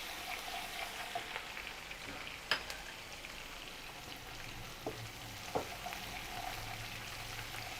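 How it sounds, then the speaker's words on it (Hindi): Onions and curry leaves sizzle in hot oil while being stirred, a steady close frying hiss with a few sharp spoon scrapes and clicks against the pan, no voices. "प्याज को डाल के आप जल्दी से इसको चला लीजिए"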